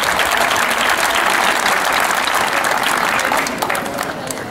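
A crowd claps warmly at a high school graduation ceremony in Trikala, Greece, dense steady applause that tapers slightly toward the end, with no speech over it.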